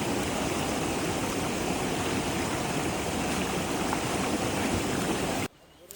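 Stream water rushes through a fish trap set in a small Konkan stream, a loud, continuous close-up flow that stops abruptly just before the end.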